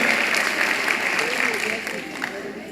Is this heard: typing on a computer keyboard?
no